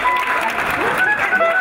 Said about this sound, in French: Tiens-toi debout et acclame le roi des rois, s'il te plaît.